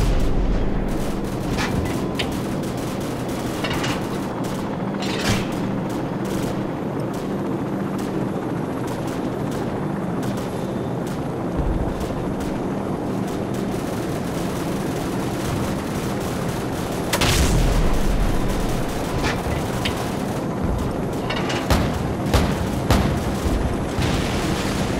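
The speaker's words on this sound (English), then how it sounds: "friendly helicopters entering the area" Steady helicopter rotor drone fills the scene in Call of Duty 4: Modern Warfare while bursts of gunfire and heavier booms break through, with a loud surge of firing near the end.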